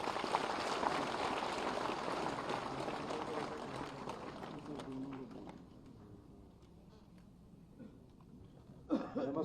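An audience applauds at a school inauguration ceremony in Uttar Pradesh, a dense crackle of clapping that gradually thins and fades over several seconds.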